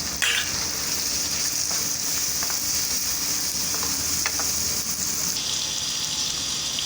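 Tomatoes fry in a pan with minced meat for a shalgam keema dish, giving a steady close sizzle with occasional stirring scrapes and clicks, and no talk over it.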